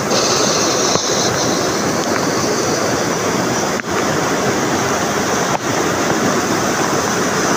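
Ballikonda Falls, a waterfall flowing beside a house in Kudremukh National Park, gives a loud, close, unbroken roar of rushing water that drowns out everything else.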